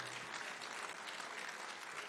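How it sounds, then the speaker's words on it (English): Faint, steady applause from an audience at a Hall of Fame show, a dense wash of clapping with no break over the brief span. "So, round of applause, please"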